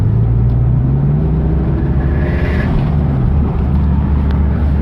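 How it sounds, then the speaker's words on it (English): Turbocharged Ford ED Falcon engine with wastegate creep revving steadily, a loud, close, continuous drone that rises and settles across the whole stretch. "the wastegate still cracks before I get onto boost, and by 4 psi it's completely open"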